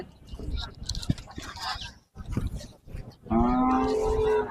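At a rural cattle market, cattle and calves low and moo amid crowd chatter, ending in a long, loud, tonal moo close by.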